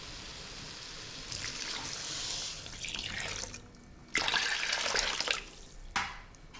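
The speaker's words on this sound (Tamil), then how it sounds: "இப்போ வந்து நம்ம குழம்புக்கு தேவையான அளவு தண்ணி சேர்த்துக்கலாம்" Water is poured into a curry in a pan, splashing and trickling in several bursts with short pauses between them. The sound is close and fairly soft, with no talk over it.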